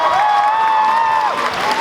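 Applause and cheering from a convention crowd at the Aikon 2015 cosplay contest walk-ons, a sustained loud wash of clapping with a prominent high whistle-like tone running over it, continuous throughout.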